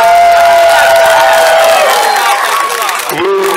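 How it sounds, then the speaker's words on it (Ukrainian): A large audience at a folk music festival breaks into vigorous applause and cheering, a dense, loud wash of clapping with voices mixed in throughout. "Всім вам дякуємо щиро, до всіх бісківців, буйні аплодисменти."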